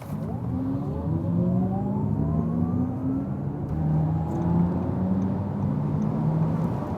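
An Audi e-tron GT electric car launches hard under launch control, its rising electric motor whine sweeping steadily upward in pitch over loud road and wind roar, fairly close and continuous.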